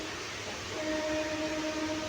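Inside the compartment of a MEMU train between Nalhati and Azimganj, a continuous rumble and rushing noise fills the space, and a steady motor whine joins partway through.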